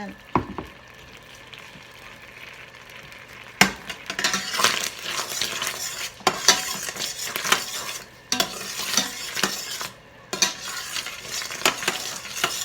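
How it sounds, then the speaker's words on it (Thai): Coconut milk stir-fried in a pot for Thai massaman chicken curry: close sizzling and frying with repeated metal spatula scrapes and clinks against the pot, arriving in irregular bursts over a steady cooking hiss. "พอเราผัดกะทินะคะเพื่อนๆ อันนี้รอบแรกให้เดือด"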